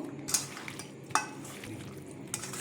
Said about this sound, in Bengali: হাফ চামচ মতন আদা রসুন বাটা দিয়ে ভালো করে এটাকে একসাথে মেখে নেব।